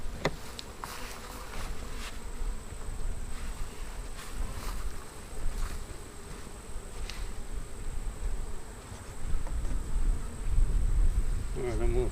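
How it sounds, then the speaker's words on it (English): Honey bees buzzing at a hive that may be queenless, a dense continuous drone of many insects close by, with faint clicks and rustles and some handling noise near the end. "I'm going to dump these bees on the ground"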